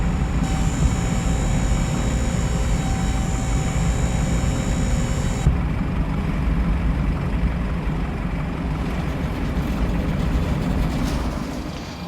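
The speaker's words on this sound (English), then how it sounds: "We are flying today a Boeing 737-800." A Boeing 737-800 airliner in a flight simulator on the Honolulu to Majuro island-hopper route: a steady, broad jet-engine roar holds throughout from the flight deck, with a faint tonal whine that drops away midway and no talk.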